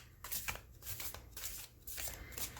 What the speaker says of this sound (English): that little swooshy thing you get when you overhand